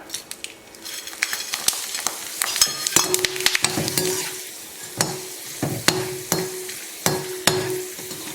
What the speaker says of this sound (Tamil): இப்போ கொத்தவரங்காய் வத்தலை வறுத்து பார்க்கலாம்.